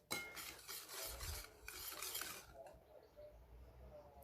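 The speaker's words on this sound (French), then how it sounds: "Et là, je vais mélanger au fouet." A whisk mixes orange caramel in a bowl for an upside-down orange cake, giving a soft, close rasping swirl that fades into a quieter, thinner stir toward the end.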